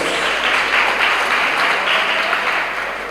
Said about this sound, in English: Please give her a bigger round of applause.